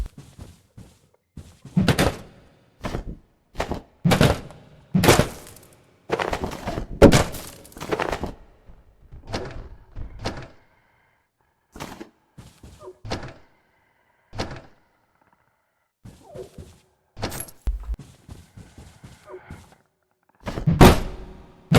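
Repeated heavy smashing blows land on an office computer in the video game Abiotic Factor, loud, near thuds and cracks in uneven bursts separated by short silences.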